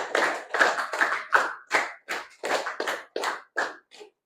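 A seventh-grade class claps pattern five three times over, producing a run of about a dozen sharp, slightly uneven group claps in rhythmic clusters, close-up and without talking.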